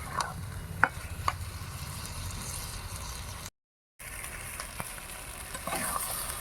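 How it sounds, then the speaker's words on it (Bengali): Soybean chunks and potatoes being stir-fried in a pan for an egg curry: a steady low sizzle with scattered scraping and stirring clicks from a utensil, broken by a short silent gap, with no talking. "এবার ভালো করে কষে নেব"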